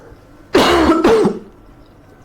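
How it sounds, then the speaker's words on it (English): Two quick, harsh coughs in a row, close and loud, with the second following right after the first, then quiet. "I've been having some cough recently"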